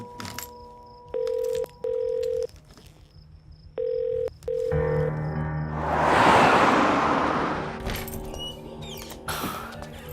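Phone keypad tones on a mobile: a steady tone, then a few evenly spaced tonal beeps that stop and start, followed by louder background sound and rustling.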